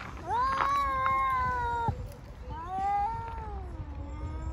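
Cats fight and caterwaul, with long, rising and falling drawn-out yowls. Two loud wailing calls sound close by over low background noise.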